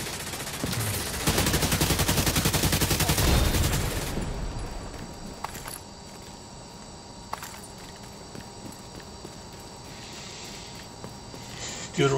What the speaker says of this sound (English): Now we have uh, orange crate over here we can shoot.